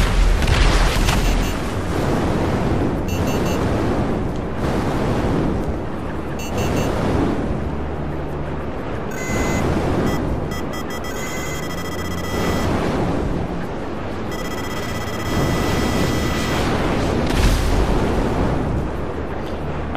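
Missile explosions in GTA Online as a player on an Oppressor fires at a target near a beach: repeated heavy booms and blasts pile up through the whole stretch, loud and dense, with game tones in between.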